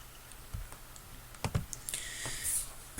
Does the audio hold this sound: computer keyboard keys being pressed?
yes